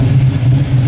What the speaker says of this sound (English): give it just a little bit of gas to you and see what that 383 stroker sounds like